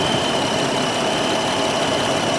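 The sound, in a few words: 2007 Jeep Wrangler engine idling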